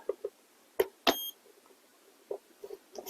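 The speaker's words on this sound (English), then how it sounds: "You hear that beep? That's obviously the MOSFET that I'm working on there." A short, sharp electronic beep from an airsoft M16A1's MOSFET sounds once amid faint clicks and handling noises, quiet and close.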